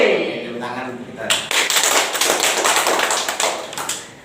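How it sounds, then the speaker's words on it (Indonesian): Elementary school students clap their hands together in class, a fast rhythmic burst of many close claps after a brief spoken call, loud and dense for several seconds. "Tepuk tangan kita."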